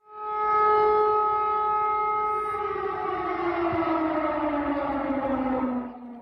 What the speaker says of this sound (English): The sound of air raid sirens ringing and tanks firing is an ever-present reminder